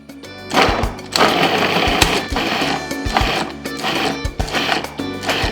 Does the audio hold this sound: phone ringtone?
no